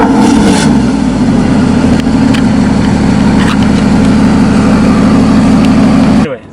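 A Porsche sports car's engine drones loudly and steadily from inside the cabin while driving, a dense mid-pitched roar with a faint rev change near the start, cutting off abruptly at the end.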